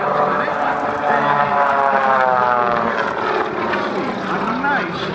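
A Blue Angels jet aircraft roars overhead at the 2008 homecoming air show, a loud sustained engine drone whose pitch slowly sweeps as it passes, with a voice talking over it.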